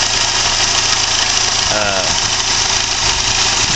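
Engine of a 1995 Chevy with a replacement motor idling rough with a suspected rod knock, a loud continuous rumble and clatter throughout, close to the listener.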